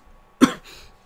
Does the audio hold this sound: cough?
yes